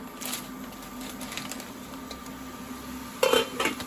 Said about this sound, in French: Je mélange et je laisse cuire à feu moyen.